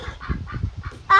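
An attacking duck gives a rapid series of harsh honks, about eight close, loud calls in quick rhythm, ending in a sharper, louder cry.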